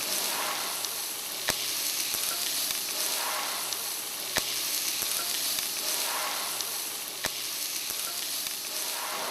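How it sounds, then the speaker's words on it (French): Sliced onions sizzle and brown in a pan for boucané with brède manioc, giving a dense, continuous frying hiss with scattered sharp pops and crackles throughout. "tu vas rajouter donc des oignons émincés et on va laisser colorer légèrement"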